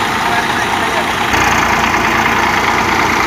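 A Massey tractor engine idles with a steady, loud, low rumble at close range, rising slightly partway through, with someone talking over it.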